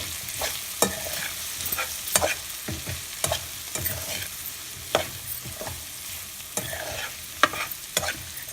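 Cauliflower and peas frying with spices and coriander powder in a pan, stirred with repeated sharp spatula clacks against the pan over a constant close sizzle, no talking.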